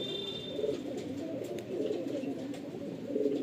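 Pigeons coo softly in a steady low murmur, a pair of fulsira pigeons, male and female, with continuous gentle calls filling the clip and no talking.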